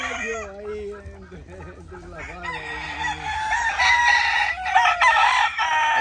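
A home-raised gamecock crows loudly and close by, its long, drawn-out calls ringing out, with clucks from other fowl and a voice talking over part of it.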